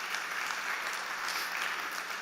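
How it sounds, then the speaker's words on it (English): Audience clapping steadily after a pitch at a South Summit stage event, dense and even across the whole stretch at moderate volume with no voices. "Big applause for DK,"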